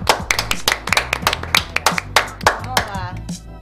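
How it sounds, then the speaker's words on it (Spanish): Studio audience on a Spanish-language afternoon show, Tres Estrellas, clapping to welcome guest Violeta Urtizberea: a small group's sharp, uneven handclaps close by, steady for nearly four seconds and thinning at the end. "con este fuerte aplauso recibimos a Violeta Urtiz Berea"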